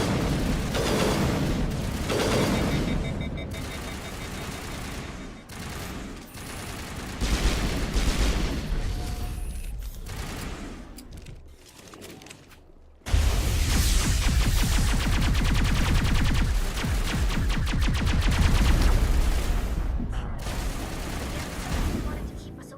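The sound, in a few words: gunfire crossfire from Geth turrets in the video game Mass Effect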